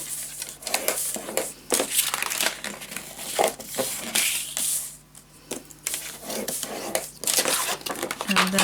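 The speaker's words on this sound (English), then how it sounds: "let's fold it all." Scrapbook paper being scored and folded by hand, giving a run of close crinkling and creasing rustles with brief crisp snaps, fairly quiet and continuous.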